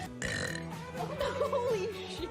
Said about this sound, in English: I've got a burp.